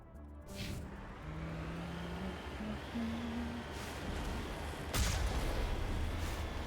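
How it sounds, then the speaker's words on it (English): A cannon fires in Mass Effect 1, with a few heavy booming blasts spaced seconds apart over a constant low rumble of background noise. "I've got a cannon."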